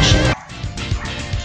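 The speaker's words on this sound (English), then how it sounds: "We have dogs." Dogs barking in the Junkyard table of the Pinball FX3 video game, a few quick, loud yips and barks mixed with crashing game effects in a short, busy burst.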